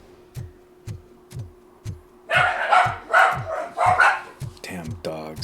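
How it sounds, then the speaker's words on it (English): Dogs bark in the video game RoboCop Rogue City, a string of evenly spaced barks at a steady rhythm, with a voice talking over them partway through. "Damn dogs."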